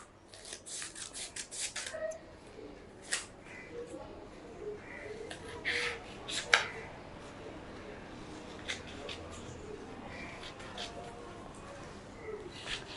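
Scissors snip a party popper into tiny pieces, making soft, irregular cutting clicks and rustles close by at low volume.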